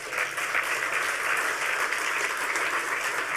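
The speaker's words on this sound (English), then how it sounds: "we need a round of applause for that" Sustained audience applause at a HOPE hacker conference, steady dense clapping throughout with no talk over it.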